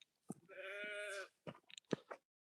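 A goat gives one long, wavering bleat, close by, followed by short chewing and crunching sounds.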